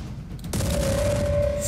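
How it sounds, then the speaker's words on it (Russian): A video game explosion erupts with a sudden loud blast that settles into a sustained roaring rumble with a steady ringing tone, preceded by a brief burst of crackling. "Это взрыв."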